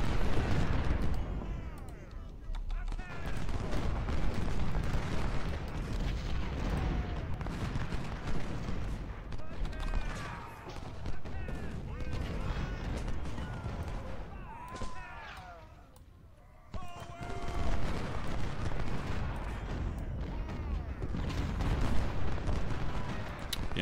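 Distant musket and artillery fire from a Civil War battle at South Mountain in Ultimate General: Civil War rumbles as steady scattered volleys, with a voice talking over it and a brief lull partway through.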